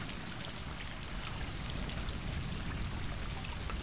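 Rain falls steadily in a video game set in a post-apocalyptic world, a constant dense hiss of drops with faint scattered patter, even and unbroken for the whole stretch with no voices.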